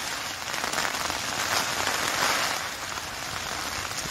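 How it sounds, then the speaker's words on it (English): Steady rain patters on a surface at a hiker's early-morning camp on the Pacific Crest Trail, a constant hiss that briefly swells louder midway, with no talking. "Rain. It's raining."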